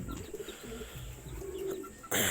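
Pigeons in a loft coo in soft, repeated low calls, close by, with a sudden louder rustle or flap at the very end.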